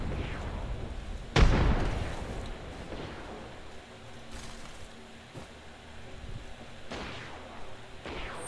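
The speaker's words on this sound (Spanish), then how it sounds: "Granada de fragmentación lanzada." Frag grenade explosion in the Apex Legends video game: one loud broadband burst around the middle of the clip, followed by a decaying rumble over background game ambience and fainter distant booms.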